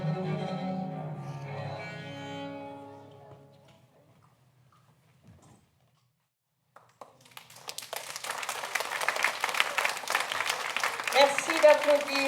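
A school class of CM1-CM2 pupils from Montclar-Lauragais receives warm applause from an audience, the clapping starting after a pause and building into dense, sustained applause that fills the room, preceded by a speaking voice.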